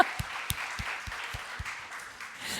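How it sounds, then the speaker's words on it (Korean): A few people in a church service clap in slow, evenly spaced single claps, faint and sparse with a quiet room hiss between the claps. "주님께 영광의 박수."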